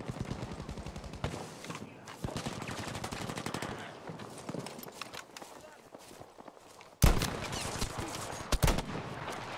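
Automatic weapon fire in the Battlefield V video game, rapid bursts of shots running through most of the stretch with a sharp loud burst near the end, while voices talk over the action.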